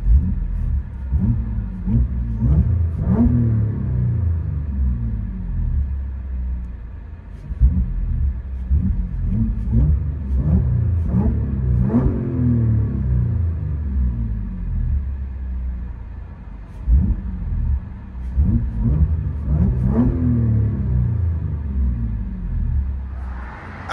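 Audi A7 Quattro V6 with full downpipes and an AWE exhaust system, heard from inside the car: a loud, steady low rumble with repeated rises and falls as the engine revs and accelerates throughout.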